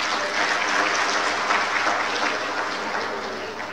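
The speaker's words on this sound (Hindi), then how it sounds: "जरा तालियां जोरदार मार के बताओ।" Audience applause at a BJP rally at the PGI hospital event in Una, a continuous dense patter of clapping at steady moderate loudness that tapers slightly at the close.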